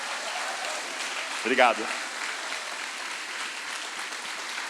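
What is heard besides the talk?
audience applause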